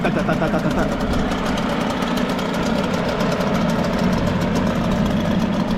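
Two two-stroke outboard motors, a Hangkai and a Mercury, idle side by side with a loud, close, steady rattling drone and fast even engine pulses throughout.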